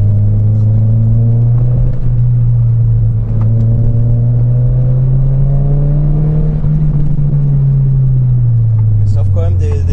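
A loaded small car with a 1.8-litre 140 hp naturally aspirated engine pulls through the gears, a steady loud interior engine drone rising and falling in pitch beneath ongoing conversation between occupants.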